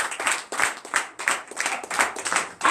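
Congregation at a night deliverance and prophecy service in Comè, Benin, claps for Jesus in loud, rhythmic unison, hands striking together in quick, even bursts about three times a second, close and full.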